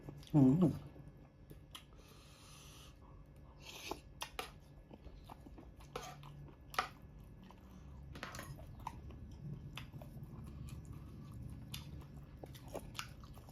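Someone eats a crunchy spicy Thai-style salad of apple snail with yellow eggplant and fresh vegetables, with a loud bite at the start followed by quieter crunches and chewing clicks, and speech mixed in.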